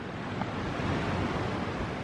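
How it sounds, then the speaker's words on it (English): Ocean waves washing ashore in a soft, continuous surf roar with light wind noise on the microphone, fairly quiet and steady with no talk. "looks like the ocean is still here."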